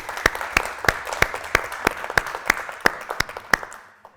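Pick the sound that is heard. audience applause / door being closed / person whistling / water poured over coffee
audience applause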